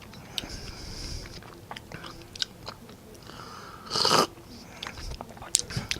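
Someone eats a 1969 U.S. Army Long Range Patrol ration stirred with chocolate, with scattered wet bites and chewing, a louder crunchy burst midway and small clicks, close and fairly quiet, without talking.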